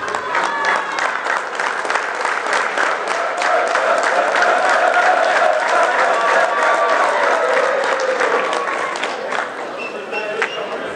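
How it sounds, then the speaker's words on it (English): An audience at the Furaha 2017 closing ceremony claps and cheers, a thick sustained wave of applause with raised voices swelling in the middle, then slowly thinning toward the end. "you can cheer with the claps as well"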